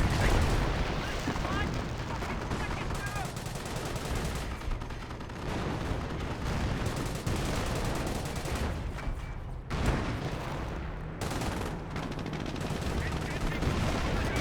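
Bofors anti-aircraft guns and a 17-pounder anti-tank gun fire in a Company of Heroes battle, with dense, continuous gunfire, rapid bursts and booms throughout, and a commentator talking over the din.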